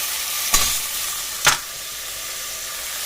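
Two sharp hissing bursts of clams hitting a hot frying pan, a second apart, over a steady low background sizzle.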